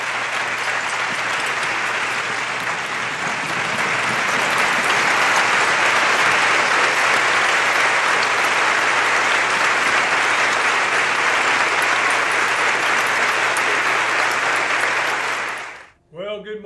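Sustained applause from a convocation audience, steady and loud for about fifteen seconds before tapering off abruptly at the end.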